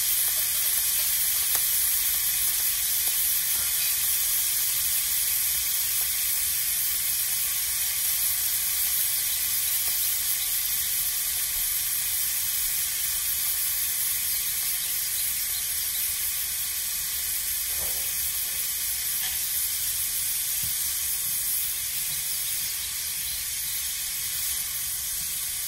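Two grated garlic cloves hiss continuously in a hot frying pan, a dense, even sizzle that holds at a steady level for the whole stretch, with no voices.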